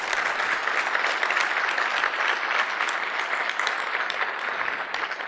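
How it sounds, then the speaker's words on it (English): Conference audience at a software keynote gives a steady round of applause for the sponsors, dense clapping filling the hall at an even level for several seconds before tapering slightly. "So can we just give a quick round of applause to our sponsors?"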